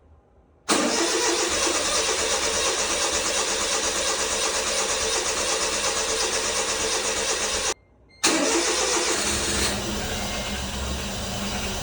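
A Honda Beat kei car engine cranks and catches, then runs loudly at a steady idle; it cuts out briefly and restarts, settling into a slightly quieter idle.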